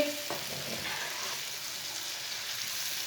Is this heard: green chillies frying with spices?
yes